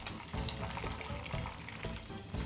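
Breaded ground-meat menchi-katsu deep-frying in hot oil, a steady dense bubbling sizzle with crackly pops, moderately quiet and continuous with no voices.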